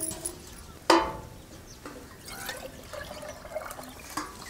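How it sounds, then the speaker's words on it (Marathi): Water poured into a pot of mutton cooking over a wood-fired stove gives a soft splash and trickle with a few drips and light pours, close and fairly quiet. "आणि परत एक वेळ आपल्याला ह्याच्यात पाणी ओतायचंय."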